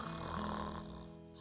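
Daddy Pig from the cartoon Peppa Pig gives a single drawn-out snore that rumbles softly, a low buzzing breath that fades toward the end.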